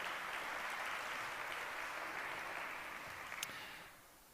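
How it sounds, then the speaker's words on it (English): Audience applause greets Csaba Borboly, president of Harghita County Council, as he comes on stage at a conference in Latvia. The clapping is dense and steady from a crowd, then fades out toward the end. "A round of applause."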